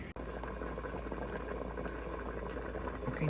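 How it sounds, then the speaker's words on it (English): Rice at a full rolling boil in a pot of salted water, a steady dense bubbling that stays loud and continuous throughout, with no voices. "now the rice is at a full boil"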